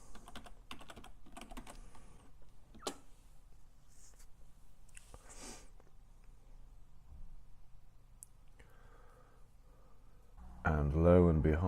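Someone types a password on a computer keyboard, producing quick bursts of soft key clicks with pauses between them, close and fairly quiet in a still room, followed near the end by a louder tonal sound.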